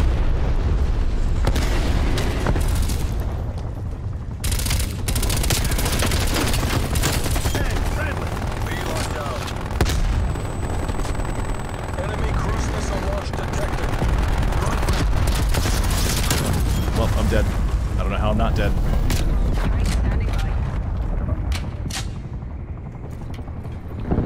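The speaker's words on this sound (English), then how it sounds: "Transmitting vector for napalm strike." Dense, continuous battle noise from Call of Duty Cold War multiplayer during a napalm strike, with rumbling explosions and gunfire layered throughout, loud and unbroken, with game voice callouts mixed in.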